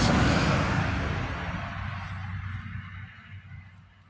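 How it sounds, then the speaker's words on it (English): A broad, noisy rushing swoosh of a truck passing on a road, loud at first and gradually fading away as it moves off. "Truck's going down the road."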